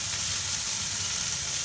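Potatoes and drumstick flowers fry in a pan with a steady, close sizzle that holds evenly throughout, no voices over it.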